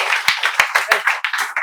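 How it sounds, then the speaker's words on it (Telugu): Brief, uneven clapping from a small group, wishing students luck at a spoken English class, sharp individual claps in quick irregular succession over about two seconds. "వీళ్ళకి చప్పట్లతో ఆల్ ద బెస్ట్ చెప్పండి"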